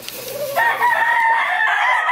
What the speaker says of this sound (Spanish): Gallos